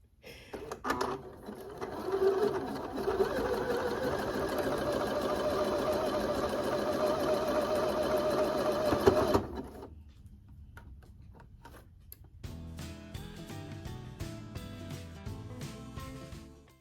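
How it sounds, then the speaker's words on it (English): A home sewing machine, run by a foot pedal, stitches a shirt with a steady close whirring hum for about eight seconds, then stops, leaving quieter clicks and handling noises. "now that I put my foot pedal plug into the sewing machine"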